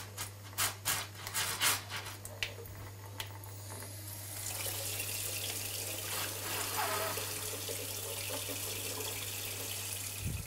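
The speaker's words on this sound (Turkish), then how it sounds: "üstünden az bir su dökerek de düğmesini de yukarı doğru kaldırarak da içindeki havayı alıyoruz" Cold water splashes and runs steadily over a pressure cooker lid to vent steam after cooking tripe soup, a continuous close hiss of pouring water following a few short knocks and clatters.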